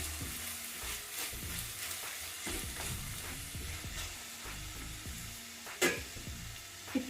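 Drumstick masala curry frying in oil as it is stirred, a continuous close sizzle with repeated scraping spatula strokes and a sharp clink near the end, no talking.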